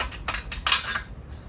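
A metal nut being fitted onto a coilover shock for a BMW E30 318, giving a few light metallic clinks and taps close by, spaced across a second and a half with no talk.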